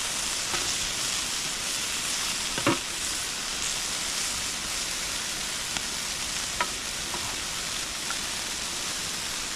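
Steak sizzles steadily on a grill at a campsite in Canada, a dense, continuous hiss with occasional soft pops and crackles, heard close with no talk.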